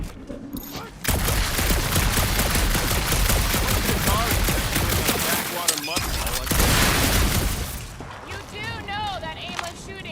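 Rapid gunfire and blasts from the video game Marvel's Guardians of the Galaxy fill a dark alien setting, loud and nearly continuous with sharp bursts, game effects and a speaking voice over them.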